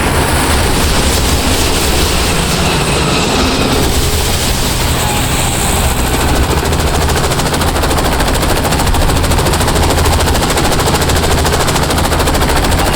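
Loud, dense automatic gunfire rattles without pause from Call of Duty 4: Modern Warfare combat, a continuous wall of shots and blasts filling the whole stretch.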